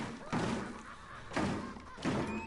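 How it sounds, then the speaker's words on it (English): Three heavy, muffled thuds of people banging on a door in the horror game Outlast: Whistleblower, spaced about a second apart, each with a short dull boom and a low rumbling tail at moderate volume. "there's people banging on this door"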